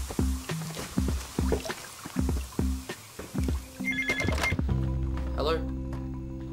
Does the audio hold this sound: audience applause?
no